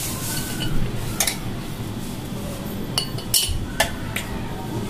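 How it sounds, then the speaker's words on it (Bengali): Homemade garam masala spice mix, freshly dry-roasted, is spooned into a jar, giving scattered light clinks and scrapes of utensil against glass over a steady low background hum, with no talking. "এখন আমি এগুলা বয়ামে তুলবো।"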